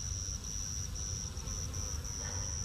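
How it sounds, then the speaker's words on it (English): Honey bees on a hive frame make a continuous insect drone and a thin, steady high whine. The buzzing is close and constant, with faint rustling underneath. "I got a good frame of bees."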